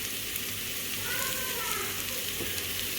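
Chicken masala fries in coconut oil for chicken puttu, giving a steady, close sizzle with faint stirring throughout and no clear talking.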